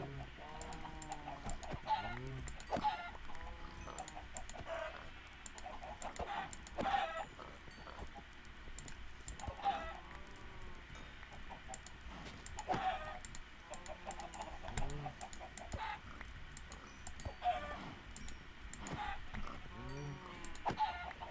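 Chickens in Minecraft clucking repeatedly in short, scattered bursts every few seconds over a quiet, soft background, fairly faint and without talk.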